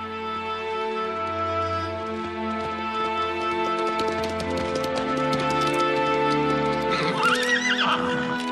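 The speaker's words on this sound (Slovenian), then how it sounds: "Konja sta se vrnila sama, brez otrok." Two horses neigh and whinny loudly alongside harmonic tonal sounds throughout, with a burst of shrill high whinnies near the end and faint hoof clip-clop underneath.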